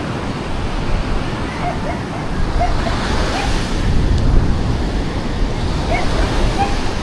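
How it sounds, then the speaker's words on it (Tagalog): Continuous washing rumble of sea surf breaking on the shore nearby, with faint wind and a few distant chirping sounds over the top. "Ngayon, lapit na oh. Ayan ang dagat."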